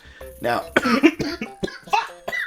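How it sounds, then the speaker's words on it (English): A single sharp cough bursts out close to the mic, set among bits of speech from one voice. "why the fuck did I cough?"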